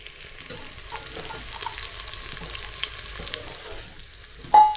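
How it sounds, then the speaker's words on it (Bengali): Mung dal frying and being stirred in a pan over a small gas flame gives a steady soft sizzle with light scraping stirs, ending in a brief sharper clink; no talking. "ডালটাকে একটু নাড়াচাড়া করে ভাজবো।"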